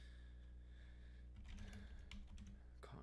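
Bursts of clicky keystrokes on a computer keyboard, faint and close, starting after a quiet opening and arriving in quick uneven clusters, with a last flurry at the end.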